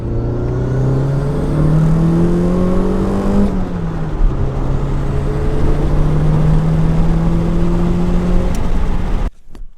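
A turbocharged Toyota MR2 accelerates hard and loud, its engine pitch climbing through gears with a brief drop at a shift before rising again, then ending abruptly.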